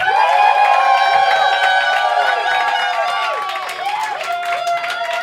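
An audience at a live New York roast battle comedy show claps and cheers loudly to vote for a comedian, a dense burst of applause that starts strong and gradually thins out, with a voice speaking over it.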